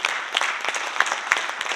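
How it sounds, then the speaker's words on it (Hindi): An audience at a Kangen business presentation in Delhi claps in a steady patter of applause, with several sharper claps standing out from the crowd. "इसके लिए भी आप तालियां लगा सकते हैं"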